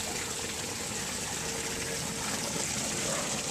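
Water splashes down a lit garden pond waterfall in a steady, soft hiss of falling water, continuous and close.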